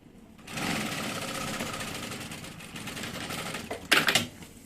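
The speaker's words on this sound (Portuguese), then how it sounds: "Então é só costurar em cima da primeira costura." A sewing machine runs continuously, stitching over an existing seam on fabric. The rapid, even mechanical rattle is close and clear and lasts several seconds before it slows and ends with a brief louder clack.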